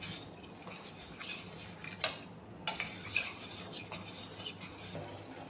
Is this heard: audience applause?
no